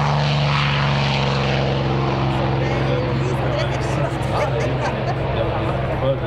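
A propeller aircraft with a Packard engine drones loudly at an air show, its deep steady engine note holding throughout, with crowd babble and faint talking underneath.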